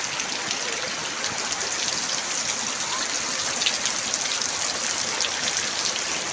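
Heavy rain pours down steadily, a dense continuous hiss of drops striking surfaces close by, unbroken and even in loudness throughout with no voices.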